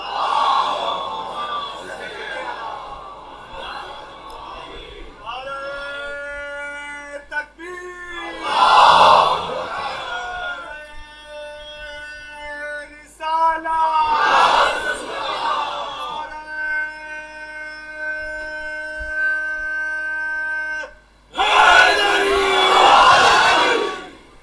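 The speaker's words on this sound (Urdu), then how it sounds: "ایک اور بلند صلوات پڑھیں." A crowd at a Muharram majlis recites salawat loudly in unison, several swelling collective chants in a row with pauses between them, and a lone voice leads and speaks in the gaps.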